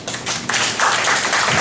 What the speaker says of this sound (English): give yourselves a round of applause for all of your hard work these past 2 days